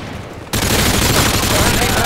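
A P90 in a video game fires a sustained burst of rapid automatic gunfire that starts abruptly after a short lull, loud and close, with voices under the shooting.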